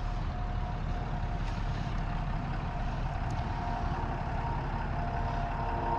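A truck idles with a low, steady engine rumble while backing a camper trailer into a campsite in Breckenridge, Colorado, the sound constant and close, with no voices.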